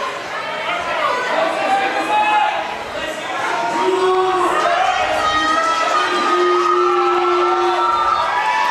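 A crowd at a powerlifting meet cheers and shouts steadily, a loud, dense roar of many voices with whoops and chatter rising throughout, continuous and close.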